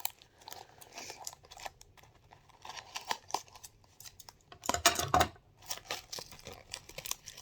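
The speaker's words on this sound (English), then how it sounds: "Lots of tape going on here. I'm just going to kind of cut through that." Scissors cutting through heavy packing tape on a parcel, close and fairly quiet, with scattered snips, crinkling and tearing that build to a denser burst of crackling cuts midway.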